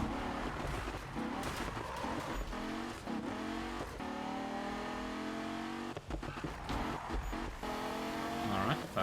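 A race car in Need for Speed drives at speed, its engine revving up through repeated rising gear sweeps with tire squeal and skidding mixed in, fairly loud and continuous.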